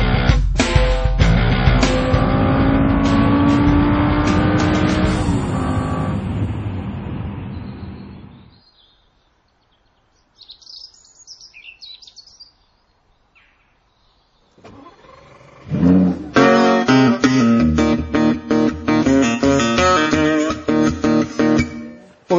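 A Lamborghini's engine drones loudly and then winds down to silence, followed after a pause by a few faint noises and a renewed run of strong, pulsing revving that surges up and down close by.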